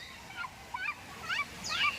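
A few short nasal honking calls from a duck at Kolkata's Alipur Zoo sound in a loose series of about four, fairly close, over a quiet background.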